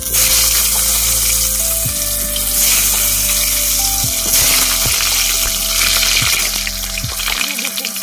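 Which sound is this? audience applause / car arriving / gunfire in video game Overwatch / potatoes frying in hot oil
potatoes frying in hot oil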